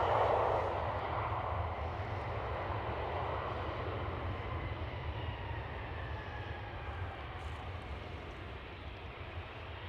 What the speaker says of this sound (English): KLM Cityhopper E190.